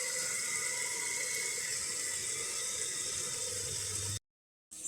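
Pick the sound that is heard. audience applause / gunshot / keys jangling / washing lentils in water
washing lentils in water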